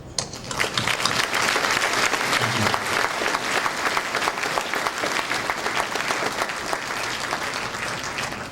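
Sustained applause from a large crowd of students at a high school Remembrance Day ceremony, a dense, even clatter of many hands clapping that holds steady for several seconds before easing slightly.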